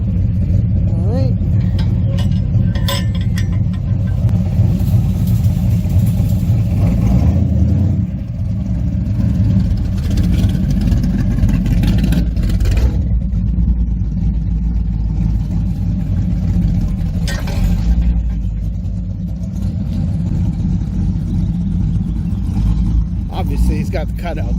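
A car engine idles with its exhaust cutouts open at about 650 rpm, giving a deep, loud, throbbing rumble that runs throughout, with a few dips and bursts, while people talk over it.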